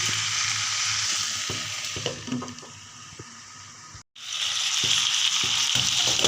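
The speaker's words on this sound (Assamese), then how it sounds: "এতিয়া এইখিনি মই ভালদৰে ভাজি ঢাকনিখন দি দিম" Local country chicken sizzles and crackles loudly in a hot pan, with occasional scraping stirs and clinks; the sizzle drops out for a moment, then returns strongly.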